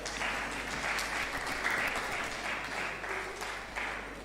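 An audience claps steadily for a panel of speakers at a public health grand rounds event, the dense applause filling the room without pause and no voices standing out.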